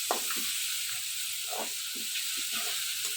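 Chopped onion frying in a pan with a little water for fish bhuna, a soft continuous hiss and sizzle close by, with faint stirring knocks throughout.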